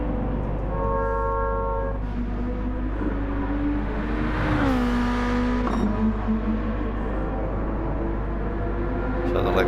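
Group 2 race cars lap Suzuka in Gran Turismo 7, a steady droning engine note that climbs in pitch and falls back as gears change, with a constant low rumble beneath.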